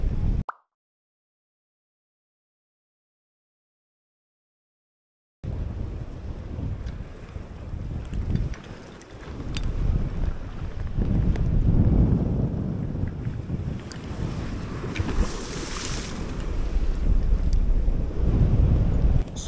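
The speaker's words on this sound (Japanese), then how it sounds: "右前からそれなりに風が吹いてるんで" Wind blowing at a seaside rock fishing spot off Hatsushima, a steady roaring rush buffeting the microphone after a brief silent gap, with water sounds beneath, continuous and loud throughout.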